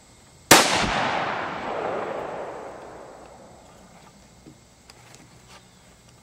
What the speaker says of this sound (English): I put the center shot rifle muzzle brake on, the 204 Ruger. We're going to see if this takes the flip out.